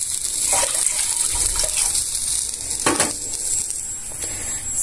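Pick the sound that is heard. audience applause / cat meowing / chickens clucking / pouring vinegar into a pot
pouring vinegar into a pot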